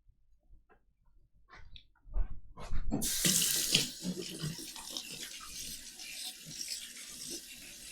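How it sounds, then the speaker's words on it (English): A kitchen tap runs into a sink during cooking, the water switching on abruptly and then pouring steadily as a loud, close, broadband hiss with some splashing, preceded by scattered small clinks and handling noises. "the water might be loud"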